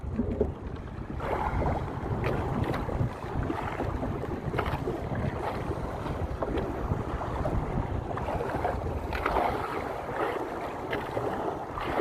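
Steady, blustery wind roars across the microphone for the whole stretch on a jigging fishing boat at sea, with a low rumble of water and the boat underneath.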